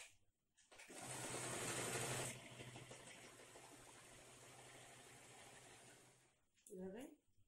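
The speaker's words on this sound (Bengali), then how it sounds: "এবার এটাকে উল্টো করে দিয়ে সেলাই করে দেবো।" A sewing machine stitches a cushion cover along the inside-out fabric, a steady whirring run that holds for several seconds before stopping, with a short mechanical rattle at the end.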